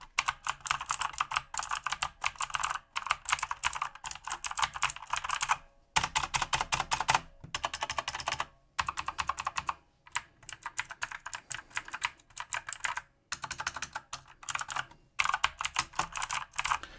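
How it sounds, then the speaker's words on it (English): EasySMX mechanical gaming keyboard with clicky switches similar to Cherry MX Blue, typed on in rapid loud bursts of sharp clacks separated by brief pauses, close and without speech. "it's definitely not a quiet keyboard, because it's very similar to something like Cherry MX Blue, actually maybe even a little bit louder"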